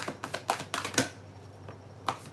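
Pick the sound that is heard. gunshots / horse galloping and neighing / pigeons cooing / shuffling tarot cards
shuffling tarot cards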